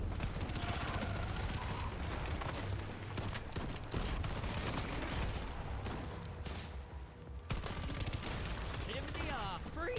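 Rapid bursts of burst-fire pistol shots crack out in a multiplayer video game firefight, dense repeated volleys running through nearly the whole stretch with other in-game effects mixed in.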